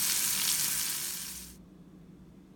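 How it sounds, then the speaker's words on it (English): Haitian-style meatballs (boulet) frying in hot oil until golden, a loud steady sizzle for about a second and a half that fades out, then near silence. "I'm gonna go ahead and let it fry all the way until it's golden."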